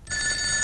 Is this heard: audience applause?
no